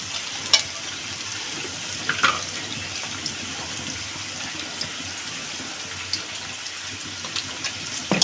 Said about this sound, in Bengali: তো মুরগি ভাজা চলতেছে